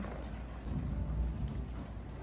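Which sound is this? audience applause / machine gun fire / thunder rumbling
thunder rumbling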